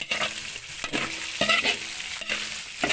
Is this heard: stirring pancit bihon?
yes